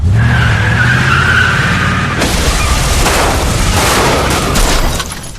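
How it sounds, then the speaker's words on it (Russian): Two cars slamming into a monster in an anime battle scene: loud sustained roaring, screeching skid and crashing impacts with booming rumble, continuous and dense throughout. "А тут еще и две машины впечатались прямо в него."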